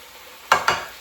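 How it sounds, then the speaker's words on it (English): A spatula stirring chopped cabbage and bacon in a skillet makes two quick scraping swipes over a low background sizzle, close and fairly loud. "once you've got all your cabbage in the skillet with your bacon cooking, go ahead and take a spoon or a spatula, I prefer the spatula, and go ahead and mix that all up together"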